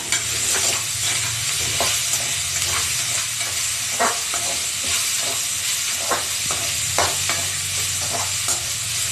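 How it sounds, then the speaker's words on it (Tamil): Vegetables sauté in a pan with salt and turmeric while preparing vaazhaikkaai puttu. A steady sizzling hiss runs throughout, punctuated by intermittent scraping stirs, close and fairly loud, with no talking. "இது நல்லா வதங்கட்டும்."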